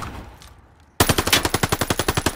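Automatic gunfire from Call of Duty Vanguard: after a quiet second, a loud, close burst of roughly fourteen rapid shots in an even rhythm.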